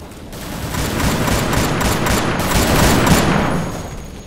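Sustained suppressing gunfire in the video game Brothers in Arms, a dense fusillade of rapid automatic bursts that stays loud and close for the full stretch with no talking.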